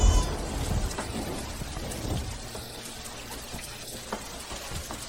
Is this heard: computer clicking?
no